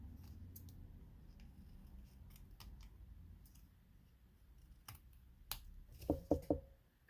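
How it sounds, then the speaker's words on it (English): Scissors snipping glue-coated paper for a small journal collage: a quick cluster of three or four crisp, close cuts near the end after quiet rustling and light handling clicks. "I'm going to go ahead and snip that away."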